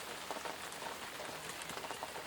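Steady rain patters on a surface, a dense continuous hiss with scattered individual drops, close and even throughout with no voices.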